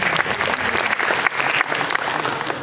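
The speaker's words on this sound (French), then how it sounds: "applaudissons tous ces jeunes" An audience applauds young players from a chess club with dense, steady clapping that keeps going at an even level, with no voices rising above it.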